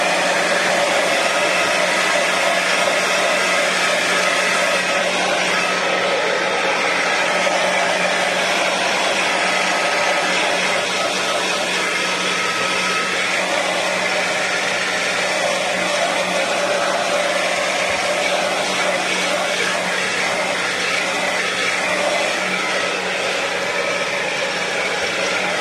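A hair dryer blows steadily on a mixed media fashion doll artwork, a constant loud whirring rush with no break for the whole stretch.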